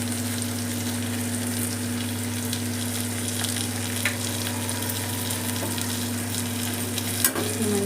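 Eggplant and lentils frying with chili powder in a pan, a steady broadband sizzle with a constant low hum underneath and an occasional clink near the end.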